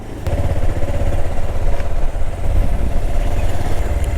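A motorcycle engine labors loudly and close up in first gear on a steep, dangerous hill road, a steady throbbing drone with slight rises and dips in revs.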